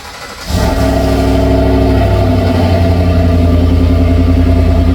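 A heavy work truck engine fires up and then revs loudly, a deep rough roar that holds steady and close for several seconds.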